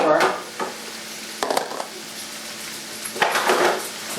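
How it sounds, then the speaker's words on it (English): Chili vegetables (celery, onion and green pepper) sizzle in a pot while a spoon stirs them, with scraping strokes near the start, middle and end over a steady frying hiss. "I'm going to stir it up."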